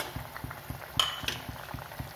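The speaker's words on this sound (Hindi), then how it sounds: "इसमें बॉईल आ गया है, अब मैं इसमें अपने गट्टे ऐड करूंगी" Water at a rolling boil in a pot with gatte, gram flour dumplings, being cooked in it, a steady bubbling hiss with soft regular pops and a light metallic clink near the middle.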